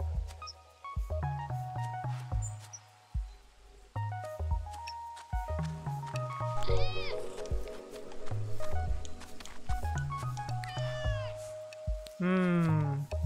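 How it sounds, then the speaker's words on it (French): A hungry cat meows in a video game set in Dordogne, its rising calls mixed with plinking game music and chimes. "Je vois un petit chat affamé."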